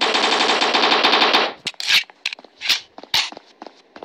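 Rapid automatic gunfire in the blocky shooter game Block Strike: a dense, continuous burst for about a second and a half, then scattered single shots and short bursts, loud and close.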